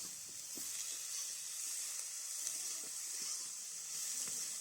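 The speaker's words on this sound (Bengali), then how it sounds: "দিয়ে দিচ্ছে গাজর এবং মটরশুঁটি খুব ভালো করে সবজিটাকে ভেজে নিতে হবে" Carrots and peas fry with cabbage in a pan, giving a steady, soft, continuous sizzle with faint scattered crackles and no voices.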